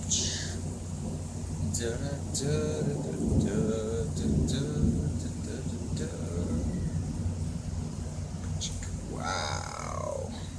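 A thunderstorm with rain falling steadily and rumbles of thunder rolling through, someone speaking intermittently over the storm noise nearby.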